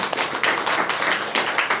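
A church congregation gives a short round of applause during a Sunday service, a busy scatter of clapping hands at moderate level that runs through the brief moment without talk.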